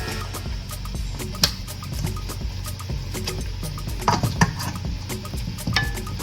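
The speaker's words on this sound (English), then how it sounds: "So I'm gonna like sear that on one side and come back and do the other side." Southern-style turkey wings searing in a big pan, with a steady sizzle running throughout and occasional clinks and scrapes of a utensil against the pan, and no talking.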